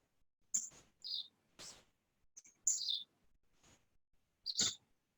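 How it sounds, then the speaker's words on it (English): Birds chirp outdoors on a calm evening, a handful of short, bright tweets scattered across a few seconds with near silence between them. "I can hear all the birds chirping outside."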